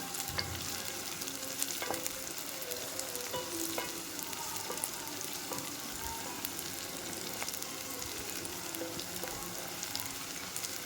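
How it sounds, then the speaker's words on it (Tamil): Chopped onions sauté in a pan while they brown for a tomato curry, with an even, steady sizzle and occasional soft stirring taps throughout, no speech. "வெங்காயம் கொஞ்சம் ப்ரௌன் கலரில் வதங்கணும்."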